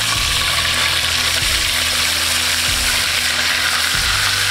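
Chicken fried steak frying in oil on a Kamado Joe grill gives a loud, close, continuous sizzle and crackle, with a low rumble underneath and no talking.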